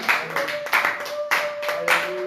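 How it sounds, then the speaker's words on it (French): A church congregation claps hands together in uneven, overlapping bursts, with a steady electronic tone humming underneath. "Est-ce qu'on peut applaudir le Seigneur Jésus?"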